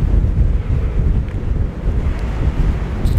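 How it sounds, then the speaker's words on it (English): Strong wind buffets the microphone in a steady, loud low roar while riding bicycles through Düsseldorf toward the harbor, with no voices over it. "Wow, it's really windy."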